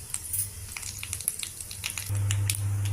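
Steady crackling sizzle of cumin, mustard seeds and a chopped chilli frying in hot oil, close by, with brief sharp pops and a low hum in the background.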